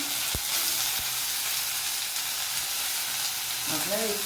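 Chopped tomato with spices sizzles steadily in a hot pan. A couple of sharp clacks sound early on, and a voice starts speaking over the frying near the end.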